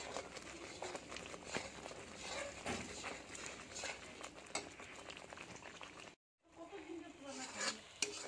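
Spice paste for mustard pabda fish sizzles in oil while a spoon stirs and scrapes it steadily, a continuous close crackle that breaks off briefly near the end before resuming.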